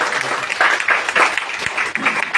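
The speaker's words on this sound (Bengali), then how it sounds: "আমি তার জন্য সকলের হাতের একটা হাততালি চাই" Audience applause at a national poetry council conference, a dense burst of clapping with slight swells in intensity, heard alone at close range.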